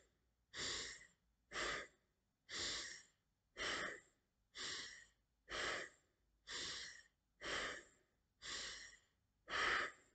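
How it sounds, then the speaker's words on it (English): Deep rhythmic breathing during a guided meditation, ten strong, evenly spaced breaths, each a close, airy rush of about half a second followed by a brief quiet gap, heard alone. "let us go with the rhythmic breath first six times"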